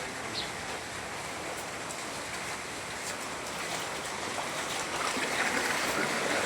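Steady broadband rush of floodwater flowing through a city street, continuous and fairly loud throughout, building slightly toward the end, with no voices.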